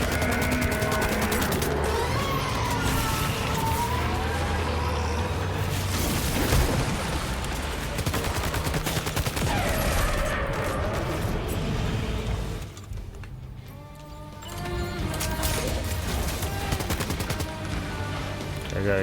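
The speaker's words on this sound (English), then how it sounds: "Keep shooting them." Heavy sustained gunfire from shooting at enemies during a boss fight in Death Stranding 2: On the Beach, a dense loud barrage over game music and effects, briefly dipping before resuming.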